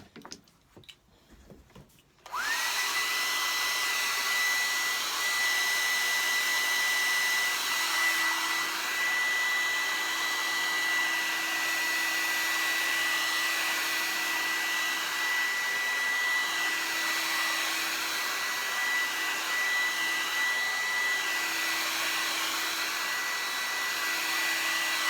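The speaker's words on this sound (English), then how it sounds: "And then I'll give it a little bit of a blow dry off." Hair dryer blowing air over a wet painting, switched on after a few soft handling noises and then roaring steadily and close with a constant whine for over twenty seconds.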